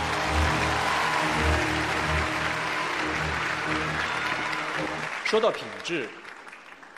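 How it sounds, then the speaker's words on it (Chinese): An awards gala crowd gives loud, sustained applause to welcome a presenter. The clapping fades as a speaker begins talking near the end. "掌声有请"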